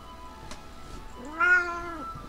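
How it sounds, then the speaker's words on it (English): A cat gives one drawn-out, anguished meow, loud and close, rising and then falling over about a second. It stands alone above faint background noise, with a couple of small knocks before it. "every time he meows, it sounds like he's being brutally murdered"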